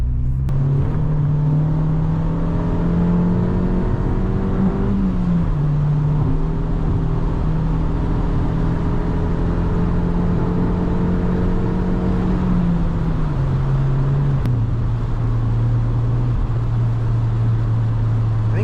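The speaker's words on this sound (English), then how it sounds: "that exhaust is quite loud" A loud, steady engine drone with a deep exhaust rumble from a modified Fiat hot hatch with a slipping clutch, pitch shifting slightly as the car changes speed, continuous throughout.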